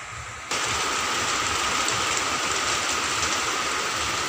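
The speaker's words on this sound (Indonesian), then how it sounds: "hujan lagi guys HP ku nggak waterproof" Steady rain pours down outdoors among orchid plants, a dense, loud, continuous hiss that swells suddenly after a brief quieter moment.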